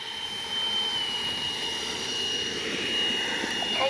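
An FMS Integral 80mm electric ducted-fan RC jet taking off without flaps, a steady loud high-pitched whine with a broad rushing roar that swells slightly, heard continuously and close by.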